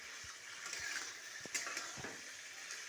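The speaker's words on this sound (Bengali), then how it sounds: "এবার এর ভেতরে চিংড়িগুলো দিয়ে দেবো। চিংড়িগুলো নাড়াচাড়া করে" Prawns crackle quietly in a frying pan as they are stirred, the soft steady sizzle broken by a few light scraping taps of the utensil; fairly faint and close, with no voices.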